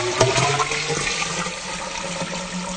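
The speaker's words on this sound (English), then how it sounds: "And I'll put a little more ferric chloride." A mix of ferric chloride and water, at about one part to four, is poured for etching a layered samurai blade, giving a continuous rushing, splashing gush close by.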